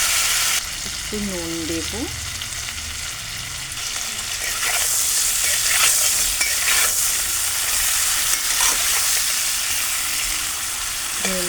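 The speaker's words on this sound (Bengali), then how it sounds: "এই মাছগুলোকে আমি লাল লাল করে ভেজে নেব।" Prawns sizzle and crackle steadily in hot mustard oil with turmeric and salt, a loud continuous frying hiss with occasional stirring, while a voice speaks briefly near the start.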